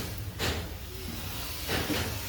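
Oil poured into a hot cooking pot hisses, for goat-head curry with chickpea lentils: two short, bright sizzling bursts over a quieter background hum, close by and without talk.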